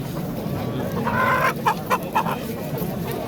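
Roosters at a poultry bazaar cluck and give short crowing calls, several bursts close by over a busy market murmur.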